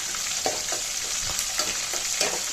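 Onions sautéing in oil for a sardine curry, a dense, steady sizzle close by, punctuated by soft periodic thumps and scrapes from stirring.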